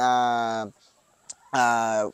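Two loud, close clucking calls from a chicken, each a harmonic rising squawk, separated by a quiet pause with a faint click.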